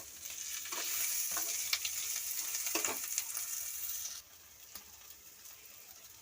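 Chopped tomatoes and spice masala sizzle in a pan while being stirred, with scraping strokes over a steady frying hiss that drops to a quieter simmer near the end, and no talk.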